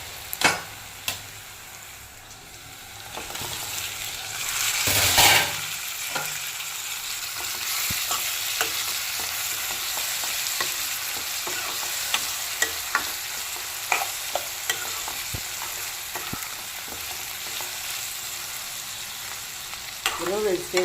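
Onions and tomatoes fry in a pan for an egg curry, with a steady close sizzle throughout, punctuated by scattered spatula scrapes and clicks and one louder burst as the pan is stirred.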